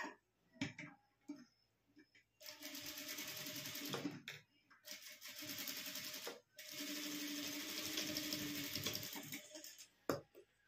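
A sewing machine stitches in bursts of steady, buzzing mechanical chatter, with brief pauses and light clicks between runs; a voice speaks quietly in the gaps.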